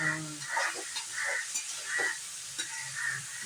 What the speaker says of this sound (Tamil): இது வதக்கிறது நல்ல வாசனையாக இருக்குது